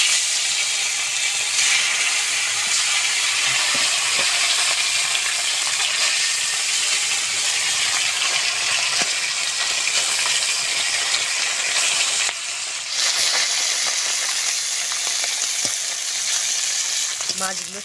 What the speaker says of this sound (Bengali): বাদ বাকি মাছটাও আমি ভেজে নেব।